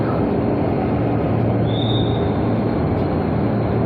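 Commuter line train at the Bekasi station platform in the morning, a steady loud rumble of rolling cars with a brief high wheel squeal partway through, no talking.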